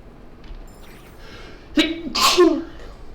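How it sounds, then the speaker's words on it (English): A single person sneezes nearby during Genshin Impact play: a short sharp inhale, then a loud burst of sneeze, alone over quiet background. "Sorry, had to sneeze there."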